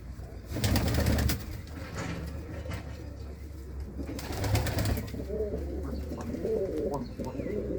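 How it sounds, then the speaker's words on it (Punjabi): Pigeons coo steadily at a village loft kept by a sarpanch in Lalluana, Punjab, their low rolling calls layered and close, with rustling and brief handling noises rising around them. "ਤੇ ਆ ਨੇ ਕੁਝ ਕਬੂਤਰ ਬੈਠੇ ਇੱਧਰ"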